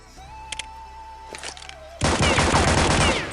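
Dual Elites pistols firing in Counter-Strike 1.6 with a custom skin pack, a burst of rapid loud gunshots that follows a few quieter clicks and a faint tone.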